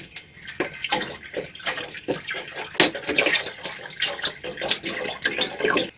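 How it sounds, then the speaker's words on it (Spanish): Purified water poured from a bottle into a container for making quinoa mudai, a steady splashing, gurgling stream with rhythmic glugs, close and fairly loud throughout, no speech. "Vamos a echarle otro litro de agua, porque yo lo hago no con agua de la llave, sino que con agüita Purificada."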